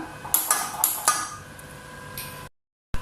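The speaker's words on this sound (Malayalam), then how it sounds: "നമുക്കൊരു ചട്ടി അടുപ്പിൽ വെച്ചൊന്ന് കത്തിച്ചു കൊടുക്കാം" A metal pan set onto a kitchen stove, giving a few sharp clanks and clinks close up, then quieter handling and a short silence before another knock.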